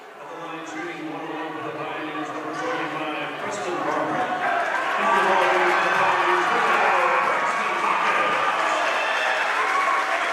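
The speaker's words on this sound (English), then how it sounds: "gets a big ovation from this Lehi crowd" Crowd applause and an ovation at a boys high school basketball game in Lehi, a dense clapping roar that swells and holds loud under an announcer's voice.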